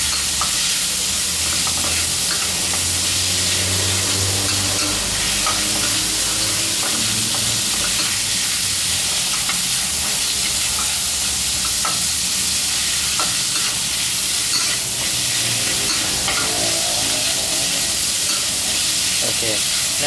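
Pork neck stir-fried in a pan over high heat gives a loud, continuous sizzle and hiss, with steady stirring and scraping throughout.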